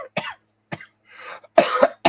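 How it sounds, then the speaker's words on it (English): A burst of several sharp, close coughs, spaced unevenly over two seconds with brief silences between them. "I got lots of coughs."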